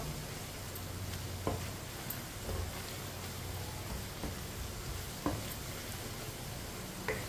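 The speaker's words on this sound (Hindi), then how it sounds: "अब इसे 2-3 मिनट के लिए चम्मच चलाते हुए भून लेंगे पालक को।" Spinach frying and being stirred with a spoon in a pan over a medium flame, a steady soft sizzle with occasional faint scraping clicks, no talking.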